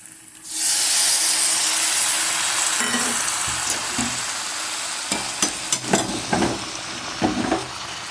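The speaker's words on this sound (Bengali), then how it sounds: "ভালো করে একটু নাড়ছি, মশলাটা কষিয়ে দিচ্ছি।" A spice paste of chilli powder mixed with water is poured into a hot pan for tomato paneer and sets off a loud burst of hissing sizzle, which eases into frying under repeated clattering spoon stirs and scrapes.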